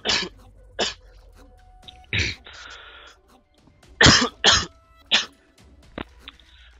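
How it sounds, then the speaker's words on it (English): A coughing fit from a man who is still a little sick, delivered as several sharp, loud coughs in uneven bursts. A throat-clearing rasp follows, then more hacking coughs near the end. "that was one of the worst coughs I've heard in a little while"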